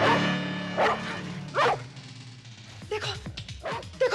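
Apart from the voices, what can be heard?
dog barking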